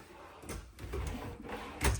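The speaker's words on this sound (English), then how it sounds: "Drawers everywhere. So you gotta push them a little bit." Cabinet drawers in a camper cottage (2026 Cottage 413FWC) pushed shut one after another, giving several soft close-range bumps and thuds spread across a couple of seconds.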